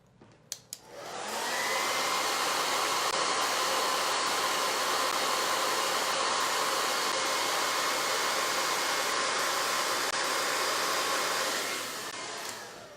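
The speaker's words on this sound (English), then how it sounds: "I'm gonna blow dry." A hair dryer switches on after a few faint clicks and blows at a steady, loud, breathy roar for about ten seconds before winding down, close by with no voices.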